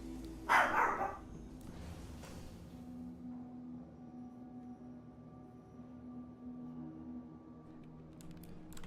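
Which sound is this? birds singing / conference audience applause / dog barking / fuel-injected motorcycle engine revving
dog barking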